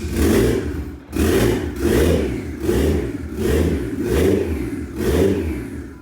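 Toyota Chaser engine after a swap to a six-speed manual gearbox, cold, revved in six repeated blips about once a second, each rising and falling loudly and close by with no talk.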